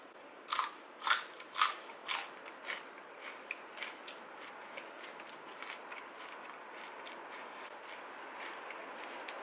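Fresh raw vegetables eaten with Thai-style salmon larb give about eight crisp, crunchy bites up close, loud at first and then fading into quieter chewing, with no talking.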